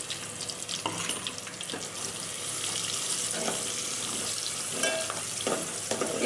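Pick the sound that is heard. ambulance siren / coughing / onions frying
onions frying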